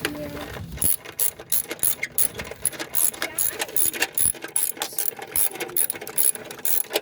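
A hand ratchet tightens the battery hold-down bolt on a 2008 Ford E-350, a close series of sharp clicking pawl strokes in quick bursts with short pauses between them and no speech.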